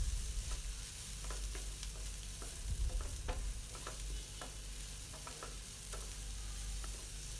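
Yellow pumpkin with grated coconut sautés in a pan for poriyal: a faint, steady sizzle with scattered light spatula taps and scrapes, quiet throughout with no speech.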